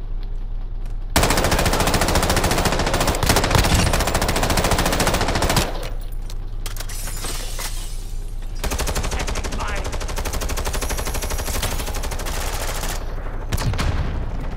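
Sustained machine gun fire in the video game Call of Duty: Modern Warfare II comes in long, loud, dense bursts with brief lulls between them, with a player voice chatting over parts of it.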